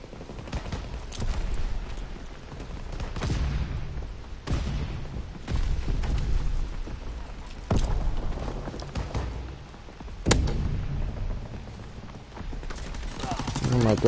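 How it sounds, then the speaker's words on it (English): Shotgun blasts in Call of Duty WW2, including incendiary rounds, come as several sharp booming shots at irregular intervals over continuous game noise and movement. "Oh, more incendiary shotguns."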